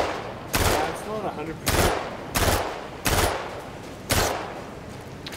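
Gunfire in the Star Citizen video game, shooting at another player: five loud bursts of rapid shots at roughly one-second intervals, with someone talking between and under them.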